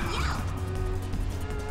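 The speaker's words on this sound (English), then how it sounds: "Nothing like being in an explosive car crash to make you dizzy." An explosive car crash in the video game Ape Escape 3 gives a loud, dense smash with a swooshing rush, sustained over a heavy rumbling game soundtrack.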